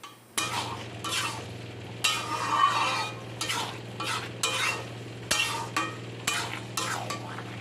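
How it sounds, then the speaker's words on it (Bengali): Bottle gourd and shrimp curry stirred in a pan with a series of about eight rhythmic scraping strokes over a low steady sizzle, close and moderately loud. "এবারে আমি আরেকটু নেড়ে চেড়ে নিচ্ছি।"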